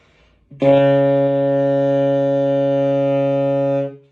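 One sustained saxophone note, played more in tune, held steady for about three seconds, clear and stable in pitch, close and alone before it fades out.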